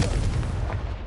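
Booming fire-spell blast from a Harry Potter-style video game, a loud, dense rumble that spans the whole moment and masks any other sound.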